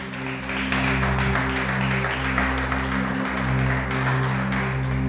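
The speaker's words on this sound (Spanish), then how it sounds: "vamos a darle un aplauso gigante al Espíritu de Dios" A church congregation applauds at a worship service, a steady, loud wash of many hands clapping that lasts the whole stretch, with a sustained organ or keyboard drone underneath.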